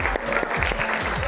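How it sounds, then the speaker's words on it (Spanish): Families gathered at an event in Escuintla give a short burst of crowd applause, continuous and fairly close, with a voice faintly audible underneath. "Un aplauso para la gente linda de Escuintla,"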